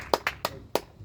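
A church congregation claps in praise, five sharp separate claps spaced unevenly over about a second, fairly close and alone with no talking.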